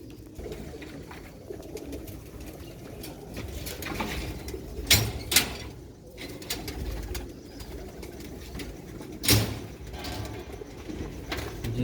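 Black-faced Sialkoti pigeons coo in a pair over a constant noisy background, with a couple of sharp bursts from nearby handling or wing movement partway through. No one speaks.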